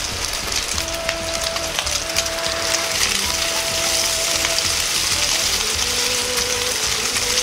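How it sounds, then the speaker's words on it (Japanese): Loud, steady sizzling and crackling of meat searing in a hot pan, continuous throughout with faint tonal hums underneath and no talking. "表面に焼き色がついてきたら肉を裏返していきます。"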